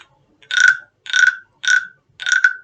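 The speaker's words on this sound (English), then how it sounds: "Sounds like a frog." A small ridged frog figure rubbed with a stick gives four evenly spaced rasping croaks, each about half a second long, close and clear with short silences between them.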